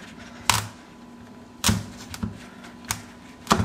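A kitchen knife presses straight down through a raw butternut squash on a cutting board, giving a few sharp, close knocks and cracks spaced unevenly with quieter crunching between them and no talk.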